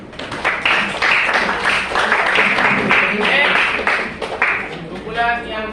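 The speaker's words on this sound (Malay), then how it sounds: "Tepuk tangan." A group of pupils clapping together in a classroom, a dense, steady patter of many hands close by, with voices mixed in and a single voice speaking near the end.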